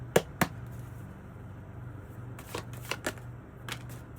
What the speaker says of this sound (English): Let's get some tarot for this message.